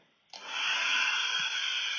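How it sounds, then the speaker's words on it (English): A loud hair dryer switches on abruptly in the background and keeps running with a steady, whooshing high-pitched hum and airy hiss. "there's a loud hairdryer running in the background"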